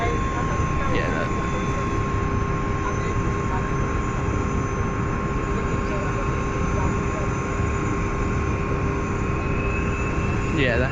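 An aircraft auxiliary power unit runs at Glasgow Airport, giving a loud, steady, close rumbling roar with a constant high whine layered on top for the whole stretch.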